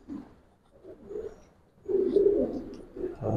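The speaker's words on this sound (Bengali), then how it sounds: "দেখেন প্রত্যেকটা কবুতর দেখেন" Old-breed Giribaz pigeons coo softly in low, throaty bursts, with a quiet murmur followed by a fuller, louder stretch of cooing close by.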